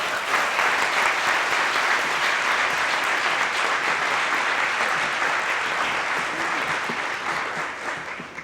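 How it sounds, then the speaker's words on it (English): Sustained, dense applause from a large audience at an arts award ceremony, loud and steady throughout before tapering slightly at the end, with no voices over it. "Please give them a round of applause."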